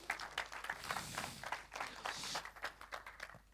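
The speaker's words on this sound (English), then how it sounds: "So a short hand of applause again for Adnan." Steady applause from a tech conference audience after a talk fills the room, a dense wash of many hands clapping at a moderate, even level.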